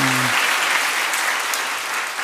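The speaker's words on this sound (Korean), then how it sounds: "사모님께도 박수 한번 주세요" A church congregation applauds steadily and fairly loudly throughout, with a brief voice fading out at the very start.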